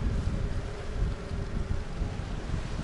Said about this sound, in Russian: ветер дует сильный